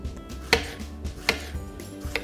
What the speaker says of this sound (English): I got some nice organic strawberries here that I'm just gonna slice up and put those in.